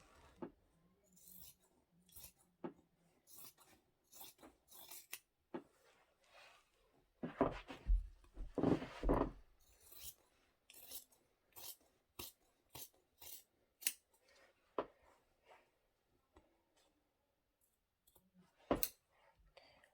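Scissors cut fitted mattress sheet fabric with sparse, crisp snips and clicks, close by. Midway comes a louder burst of fabric handling, and quiet speech surfaces now and then.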